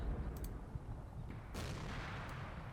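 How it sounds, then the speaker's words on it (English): Distant artillery in the WWII strategy game Combat Mission: Battle for Normandy, low rumbling booms and a few sharper cracks over a constant dull battlefield roar. "The artillery continues. General's really putting a lot of effort into this artillery"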